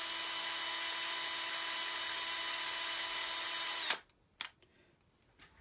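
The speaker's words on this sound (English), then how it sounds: "very carefully twist it with the drill" A small power drill whirs steadily while twisting wire just short of an LED on an HO-scale dwarf railway signal. The whine is high and continuous, then cuts off abruptly, followed by a couple of brief clicks.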